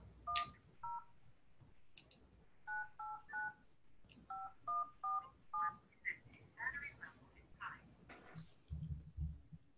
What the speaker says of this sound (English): I'm going to call your number.